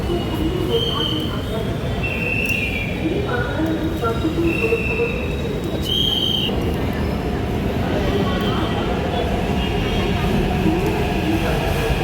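Metro train ride from inside the carriage, a loud steady rumble of wheels on rails with repeated high squeals from the wheels and a constant hum throughout.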